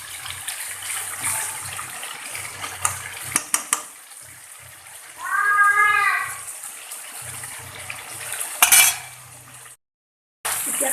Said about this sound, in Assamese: এতিয়া মই এইখিনি অলপ সময় ভাজিম।